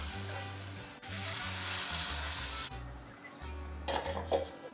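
Ridge gourd fritters coated with poppy seeds fry in hot oil, giving a continuous crackling sizzle with a few light clinks of a utensil against the pan near the end.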